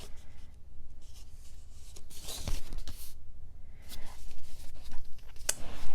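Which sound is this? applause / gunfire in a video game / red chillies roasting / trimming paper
trimming paper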